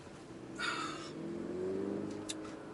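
A Mercedes-Benz GLC300 SUV engine revs eagerly under throttle, a rising drone that swells over a couple of seconds and holds steady, heard close.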